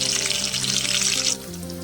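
Green chilli pieces sizzle in hot oil in a pan with a bright, crackling hiss that cuts off after about a second, leaving a quieter low hum.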